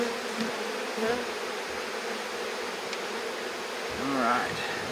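Honey bees swarm around an opened hive during a post-winter inspection, a close, continuous buzzing drone with faint rustling and occasional louder passes near the listener.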